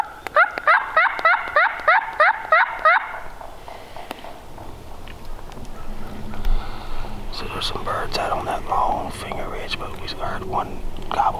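Wild turkey gobbling on a hunt: a rapid, rattling gobble in the first few seconds, followed by hushed whispering voices and outdoor rustling.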